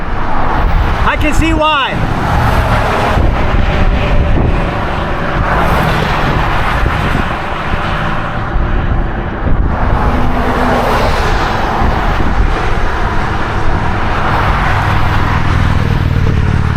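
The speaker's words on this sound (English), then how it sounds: "This is State Route 17, busy road." Steady roadside traffic rumbles along busy State Route 17, with a vehicle sweeping past loudly early on while someone talks close by over the continuous noise.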